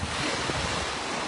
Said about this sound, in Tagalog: Malapit po kami sa dagat